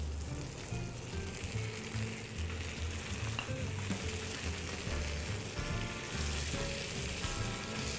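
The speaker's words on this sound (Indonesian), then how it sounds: "Kita aduk sebentar sehingga merata." Tomatoes and paprika stir-fried in a pan, a dense continuous sizzle with scraping stirs running steadily throughout at close range.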